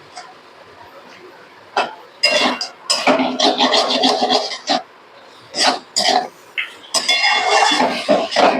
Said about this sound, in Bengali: আমি নেড়ে নিচ্ছি ভালো করে।